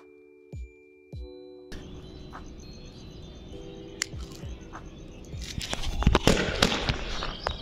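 A homemade gulal colour-powder gun, lit with a match for Holi, goes off in a crackling, popping burst after a quiet stretch of faint outdoor chirps and hum.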